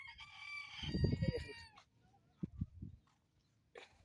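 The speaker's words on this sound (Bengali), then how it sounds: "এই দেখেন মোরগগুলো" Roosters at a modest rural home. One gives a strained, fairly close crow, then short clucks follow, with a brief call at the end. No one speaks.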